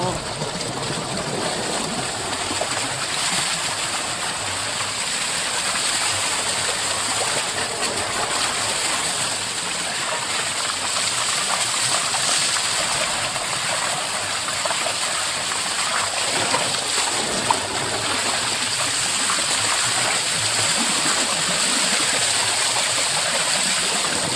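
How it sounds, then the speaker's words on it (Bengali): Water gushes steadily into a bathtub, a loud continuous rushing and splashing that goes on without a break. "ভালো করে ওয়াশ করতে জল ঢোকাই, ভেতরে জল ঢোকাই।"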